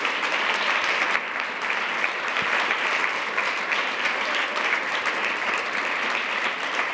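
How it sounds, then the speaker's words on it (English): A crowd at the closing session of a pitch competition, Transatlantic Sync 2019, applauding a winner: steady, dense clapping that holds at an even level for several seconds with no voices over it. "Please give a round of applause."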